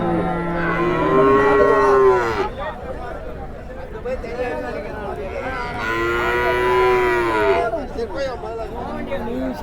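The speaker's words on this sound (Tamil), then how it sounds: "இதெல்லாம் வாங்கின மாடுங்க, எல்லாம் வந்து லைனாக கட்டி வச்சுருக்காங்க." Cattle moo loudly and close by at a busy early-morning livestock market in Vadalur, with two long, drawn-out calls over a steady murmur of crowd chatter and voices.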